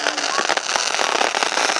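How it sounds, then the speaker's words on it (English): Fireworks at Saddle Lake in 2014 burst in a dense, continuous barrage of loud cracks and booms, with crackling layered throughout and little pause between explosions. "Of the 2014 fireworks."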